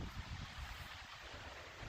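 Strong wind on a windy day in the woods where trees are falling, a loud, continuous buffeting roar with gusty low rumble filling the whole moment, no voices.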